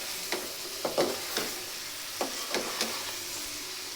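Curry sizzles in a karai while a spoon scrapes and stirs it in a steady series of soft strokes, close and fairly quiet, with a constant frying hiss underneath.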